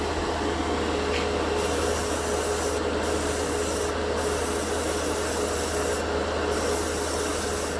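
Airbrush spraying paint, powered by a Superior portable air compressor, gives a loud, steady hiss of air and spray that runs unbroken throughout, with a few brief higher hissing bursts.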